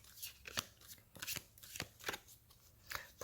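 Tarot cards shuffled for a reading: repeated close, crisp riffling flicks and slaps in an irregular rhythm, with no one speaking.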